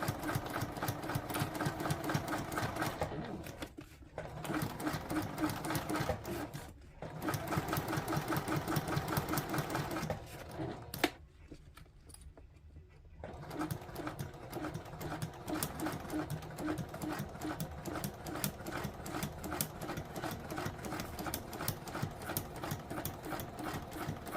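A sewing machine stitches in rapid mechanical bursts, stopping briefly several times and then running on, close and steady.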